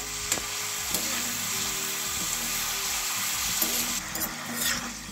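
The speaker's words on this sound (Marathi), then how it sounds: "तर चला आता यांना आपण पुन्हा एक वेळेस मस्त कडक तेलामध्ये फ्राय करून घेऊया" French fries deep-frying in very hot oil, a dense steady sizzle and hiss heard close up, with faint low bubbling and light knocks underneath.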